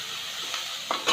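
Onions sauté in a pan for a prawn and bottle-gourd curry, a brief, even close hiss of frying with a soft scrape near the end.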